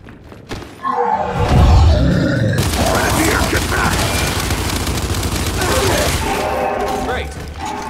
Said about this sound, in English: So let's go and shoot some locusts.